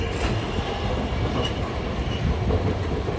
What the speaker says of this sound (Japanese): しばらくすると列車が交差点を曲がってきました。